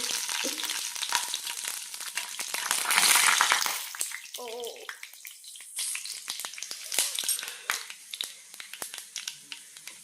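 Spices for tempering popping and crackling in hot oil in the kitchen while coconut chutney is made, a dense run of sharp crackles over steady sizzle, loud and close.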